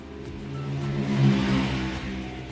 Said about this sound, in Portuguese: Relevem a moto, gente.